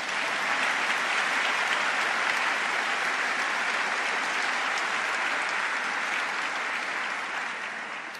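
Audience applause at a Congressional Gold Medal ceremony honoring NASA's Hidden Figures: dense, sustained clapping from a large crowd in a hall, holding steady for several seconds before starting to taper off near the end.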